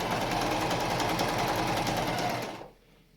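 A sewing machine stitches a no-elastic, adjustable cloth mask in one steady, loud, fast run of stitching that lasts most of the moment, then stops and drops to near silence.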